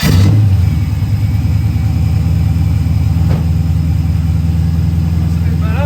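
A carbureted V8 engine runs at a high, steady idle close by, rumbling and droning continuously with a slight roughness throughout.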